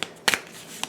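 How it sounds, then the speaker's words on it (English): Deck of game cards for the Etherfields board game being shuffled by hand, a few quick papery riffles and snaps with brief pauses between them, close and fairly quiet. "I'm going to shuffle it up and just take a card."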